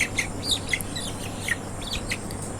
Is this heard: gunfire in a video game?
no